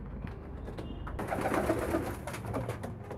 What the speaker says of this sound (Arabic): الحمام طاير في الغرفة مش محبس في عيون